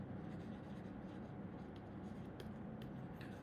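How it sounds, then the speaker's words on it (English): A pen or marker writes out notes during a lesson on topological sorting, giving quiet, low scratching strokes with a few brief sharper ticks, heard alone with no talk. "So let me write it down."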